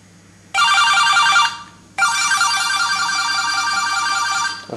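An electronic phone ringtone plays in two bursts, a short pause between them, loud and close, with a faint hum underneath.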